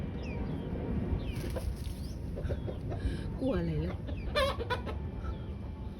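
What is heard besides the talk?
chickens clucking at feeding time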